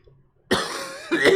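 A single close cough bursts out after a short silence, followed by a second rougher cough or throat sound.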